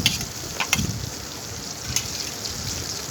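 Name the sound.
chopped onion frying in oil for shrimp curry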